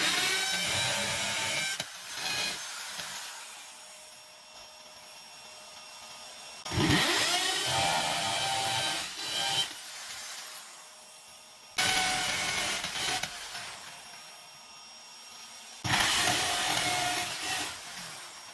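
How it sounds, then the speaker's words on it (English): An M12 drill bit bores into a brick wall while floating shelves are being mounted. It runs in four loud, grinding bursts of a few seconds each, separated by quieter pauses, with no talking. "this M12 drill bit drilled a little bit bigger hole than I need to"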